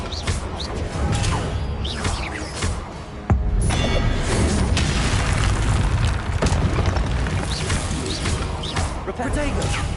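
Explosive blasting-spell impacts from a Hogwarts Legacy duel on PS5, loud booming bursts, one sharp blast near the middle, dense with overlapping combat noise and a voice over the top.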